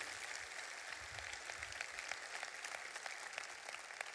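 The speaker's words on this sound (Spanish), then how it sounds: "¿Por qué no le da un fuerte aplauso a Él por eso?" A church congregation applauds during a pastor's service, a faint, steady patter of many hands clapping that sounds distant and softly textured, with no talk over it.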